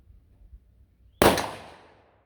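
A single 6.5 Creedmoor rifle shot fired over a chronograph with a 145-grain Barnes Match Burner handload, a sharp loud crack out of near quiet followed by a decaying tail of echo.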